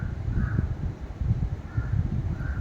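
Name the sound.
crows cawing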